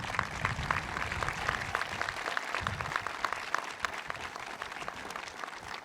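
An audience applauds steadily for about six seconds in a room at a job training center event in Buffalo. The clapping is dense, even and fairly quiet, with no voices over it.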